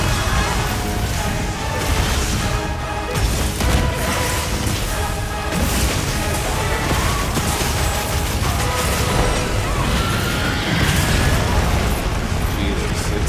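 Loud, dense fireball explosions and booming blasts from the video game Monster Hunter Wilds pile up continuously, with crashing bursts throughout and a voice talking at points.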